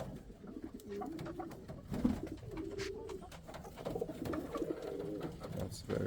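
Pouter pigeons in a breeding loft give soft, repeated low cooing amid faint rustling, with quiet speech at times.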